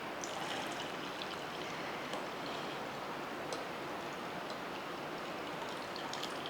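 Boiled horse gram water poured into a tamarind and tomato mixture for tomato rasam, a steady close liquid stream with light splashing and trickling that stays even throughout.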